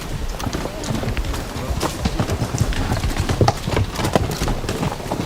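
Many hooves clatter steadily on hard ground as a mounted procession passes in 1982, a close, busy rhythm with voices in the crowd underneath.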